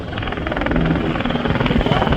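A PZL W-3 Sokol, a medium-sized twin-engine multi-purpose helicopter, flying at an airshow: a loud, steady turbine roar with a rapid rotor beat, close by, with no voices.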